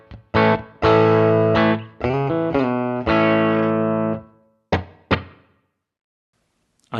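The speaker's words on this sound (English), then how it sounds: "we have a medium room reverb dialed up" A clean electric guitar plays through a Fractal unit's stock medium room reverb, sounding a few sustained chords and notes with bright harmonics, then a pair of short plucked hits whose tails ring out into silence.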